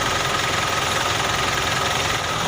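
A car engine warmed up after about 30 minutes of running idles steadily and loudly up close, a dense continuous rumble with no other sounds.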